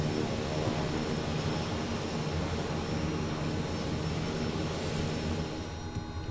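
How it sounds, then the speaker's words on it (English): A Kodiak 100 turboprop engine hums at a steady idle in a Microsoft Flight Simulator bush-flying session, a continuous loud drone with an even whine and no talking. "We got a good engine start."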